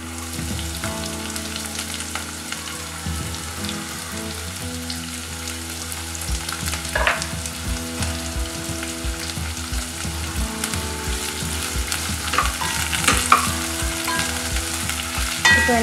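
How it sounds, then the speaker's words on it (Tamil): Onions and green chillies sauté in a pan for dal, a steady close sizzle with occasional stirring scrapes and pops rising over the frying hiss. "இப்போ எல்லாத்தையும் சேர்த்து நல்லா வதக்கிக்கோங்க."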